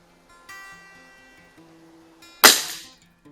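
One sharp, close crack from a .25 caliber Theoben Eliminator air rifle fired on a bench test, preceded by faint mechanical clicks and quiet handling noise.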